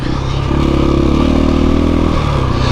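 An oncoming motorcycle engine drones loud and close on the White Rim trail, its pitch rising steadily as it approaches and passes, with a rough clattering buzz throughout.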